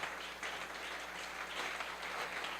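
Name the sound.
congregation applauding in church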